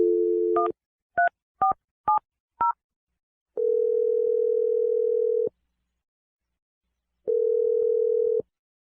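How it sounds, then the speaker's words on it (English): Telephone keypad dialing a number: several short two-tone beeps spaced about half a second apart, then two long steady ringback-style tones separated by silence, clear and close with no voices. "Okay, I'm going to dial it right now."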